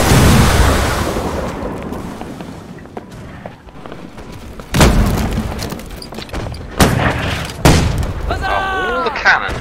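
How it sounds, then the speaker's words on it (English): Heavy booms of cannons firing in a naval video game, several loud blasts spaced through a noisy battle with a spoken voice over the top. "See if I can shoot these cannons."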